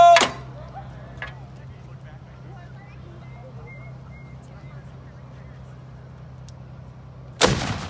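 A French World War One cannon fires with a loud, sharp boom at the start, followed by a long quiet stretch of low hum, and a second loud blast erupts at the very end.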